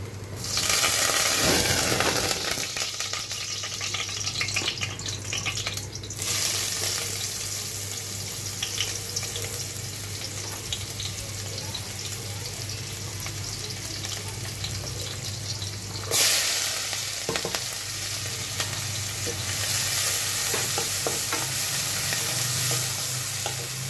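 Chopped onion sizzles steadily in oil with fat rendered from river baila fish, stirred now and then, a dense close frying hiss that runs the whole time with no talk.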